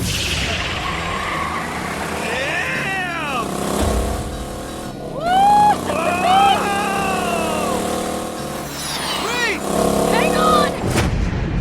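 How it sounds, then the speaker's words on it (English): In the Borderlands game, a stray moonshot strikes a caravan and tears it in half: a booming impact with metallic screeching and whooshing sweeps, followed by further crashes and rumbling, loud and dense. "A wayward moonshot clips the caravan and tears it in half."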